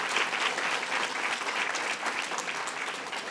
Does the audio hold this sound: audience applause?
yes